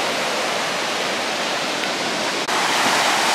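Ocean waves at the beach in Ocean City, New Jersey, heard as a loud, continuous wash of surf, steady and enveloping with no voices.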